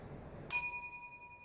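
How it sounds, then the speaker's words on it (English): An antique figural tap bell rings once with a crisp metallic strike and a sustained, shimmering tone that slowly fades, heard alone and close. "This is Louise Collins put onto an old tap bell"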